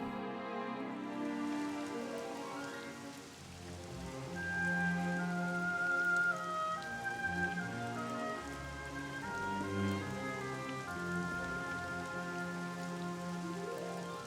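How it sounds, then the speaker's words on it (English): Steady rain falls in Dragon Quest XI, an even patter of drops running throughout beneath soft, sustained background music. "it is a terrible day for rain."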